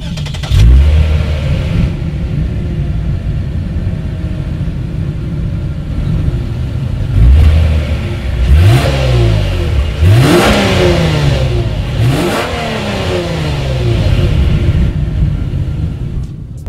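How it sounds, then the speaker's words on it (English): A 2019 Lexus IS300 F Sport engine idles, then revs hard several times in quick bursts, loud and close, the exhaust roaring and settling back between each blip. "As always, here is that exhaust clip."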